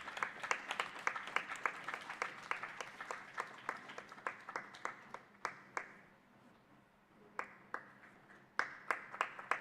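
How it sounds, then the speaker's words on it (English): An audience at an international conference on birth defects breaks into applause for an award, with many hands clapping in a fairly even patter that thins briefly and then picks back up, moderately distant. "Let us hear a huge round of applause for this young lady"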